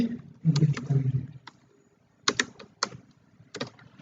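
Computer keyboard typing while writing PHP code, heard as a few short bursts of clicking keystrokes separated by pauses, close and fairly clear, with a brief stretch of soft murmuring speech near the start.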